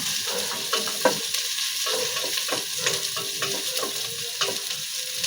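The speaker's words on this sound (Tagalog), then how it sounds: "Kailangan natin imikos-mikos natin ang ating sibuyas at saka ang ating luya at bawang." Onion, ginger and garlic sizzle loudly in a frying pan while a utensil stirs and scrapes them in repeated close strokes, with no talking.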